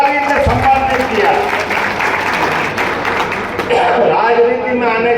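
Crowd applause at a political rally in Kukshi, Madhya Pradesh, a dense, steady wash of clapping that carries on for several seconds, with a voice on a loudspeaker talking over it.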